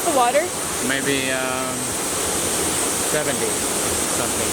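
A small waterfall near Tequila, Mexico, pouring after rain as a steady broadband rush of falling water, with a voice speaking briefly over it near the start.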